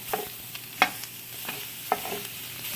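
Italian sausage browning in a pot, giving a soft sizzle with several sharp scraping and stirring clicks scattered through, close and moderately quiet with no voices.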